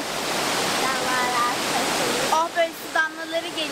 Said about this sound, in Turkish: Şelalenin altına geldik.